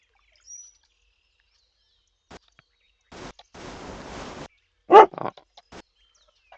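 A dog in the video game Pumping Simulator 2 barks once, loud and close, followed by a few softer yips, with quiet gaps and faint game noises around it.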